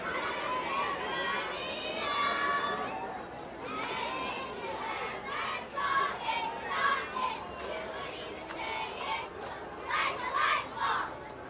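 A cheer group chants at a Christmas parade in Montrose-Glendale, loud rhythmic bursts of young voices rising over steady crowd chatter.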